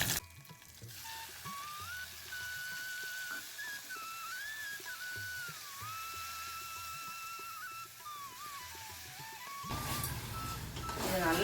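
Tomatoes sizzle softly and steadily in a pan under a thin, wavering whistle tone, and a voice speaks briefly near the end.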